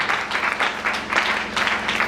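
A church congregation claps and applauds in praise, a dense, steady wash of many hands with rising swells, filling the room without speech.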